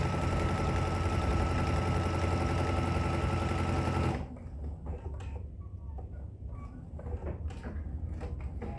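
A sewing machine runs at an even, close whir for about four seconds while stitching fabric for a tissue tote, then stops, leaving quieter handling clicks and rustles.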